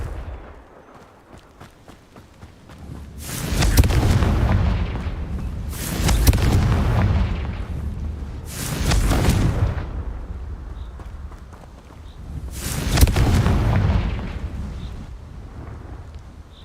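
Four loud, booming spell blasts from the Confringo fire-explosion curse in Hogwarts Legacy on PC, each a broad, rumbling burst lasting about a second, spaced a couple of seconds apart with quieter game ambience between.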